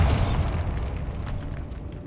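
A Bombarda blasting spell from Hogwarts Legacy bursts loudly at the start, then a rumbling debris-filled decay lingers and fades over two seconds, with no talk.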